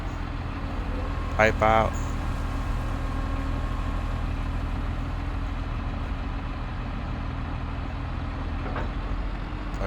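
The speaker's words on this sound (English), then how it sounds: "I'm going to turn on the header harvester" A combine harvester in Farming Simulator 22 drones steadily with its header running, a loud continuous low engine rumble like an idling truck, with a brief spoken line and a short beeping chime near the start.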